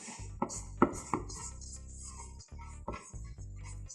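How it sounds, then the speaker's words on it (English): A spoon mixes macaroon batter made with dry coconut and a pinch of salt in a bowl, producing close, irregular taps and soft scraping strokes against the bowl's sides. "And we're just going to mix this in together until it's well"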